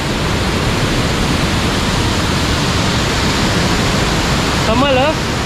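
Kaigal Falls produces a dense, unbroken roar of falling water heard up close, with a short burst of voices appearing near the end.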